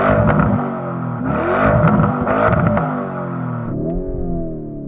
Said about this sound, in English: So I'm going to rev up this Lamborghini.